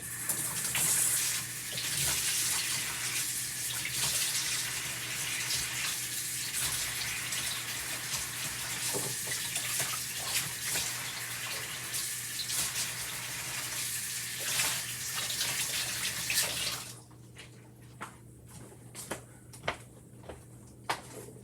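Water gushes steadily from a sink tap as chalk-art stencils are rinsed for reuse, a loud continuous splash that cuts off abruptly near the end, leaving only a few small clicks and drips.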